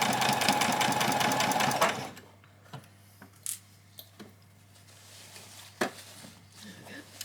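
A sewing machine stitches fabric for a child's dress in a rapid, steady run for about two seconds, then stops. Soft handling noises and faint ticks follow.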